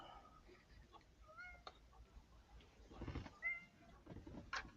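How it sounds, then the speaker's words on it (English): A calico cat meows repeatedly for attention at a scale-modelling workbench, several short nasal cries close by and moderately loud, interleaved with faint background noise. "She'll hunt me down and look at me and just meow until I start running."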